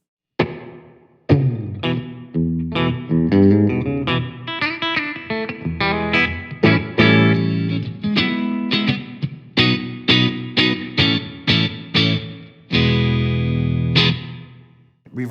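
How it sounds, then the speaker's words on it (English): Electric guitar through a Fender Champion 100XL amp on its first reverb setting, loud and slightly driven, with busy strummed chords and single-note runs trailing short reverb tails, no voice. "Okay, and then here's reverb 1."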